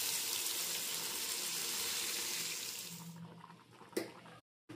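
Water pours steadily into a pan of murrel fish curry at home, a broad gushing splash for about three seconds before it tapers off and a single clink follows.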